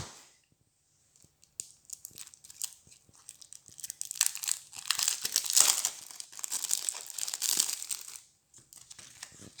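Paper envelope number 7 from the God of War card game being torn open, with crinkling, rustling and tearing sounds that start sparse and build to a busy, close crackle before trailing off.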